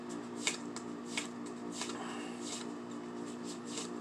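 Flimsy tarot cards are shuffled without bending, a soft papery riffle repeating in quick bursts about every half second, close and quiet.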